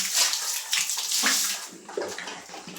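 Water splashing and spilling out, a bright rushing wash with uneven surges, close and moderately loud with no voices.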